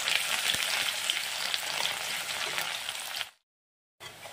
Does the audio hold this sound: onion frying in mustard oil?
yes